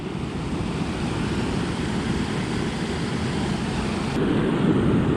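Steady broadband rushing of a river flowing close by at a campsite where a budget camp stove cooks oatmeal and soup, a continuous wash with no talk that swells slightly louder near the end.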